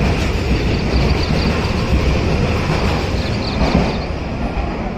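A JR 223 series electric train at an Osaka Station platform fills the air with a loud, steady rumble of wheels and motors, a continuous mechanical roar without talk.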